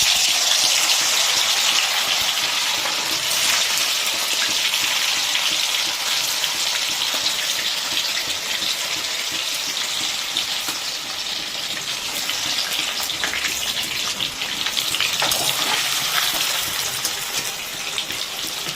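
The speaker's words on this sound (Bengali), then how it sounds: "এখানে আমরা পনিরগুলো যেগুলো কেটে রাখা আছে সেগুলোকে আমরা ফ্রাই করে নেব" Cut paneer pieces frying in hot oil, giving a dense, steady, rain-like sizzle that stays close and loud throughout, with no voices.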